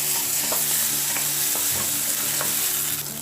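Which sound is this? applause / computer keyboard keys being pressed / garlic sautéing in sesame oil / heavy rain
garlic sautéing in sesame oil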